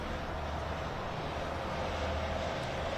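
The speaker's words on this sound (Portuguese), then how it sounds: "É um avião decolando?" Steady, broad rumbling roar of an airplane taking off in the distance, continuous and unchanging, with no voices.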